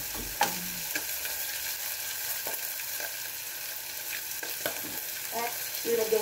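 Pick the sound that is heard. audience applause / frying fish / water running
frying fish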